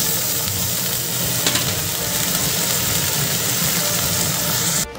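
Dhenki shak fern greens hit a hot pan with cumin, ginger and dried chilli paste, a loud, dense, continuous sizzle that hisses steadily before cutting off at the end.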